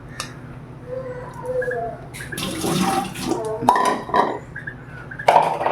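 Soaked moong dal being rinsed in a metal vessel, water sloshing with clinks and knocks of the pot coming in bursts, close and moderately loud.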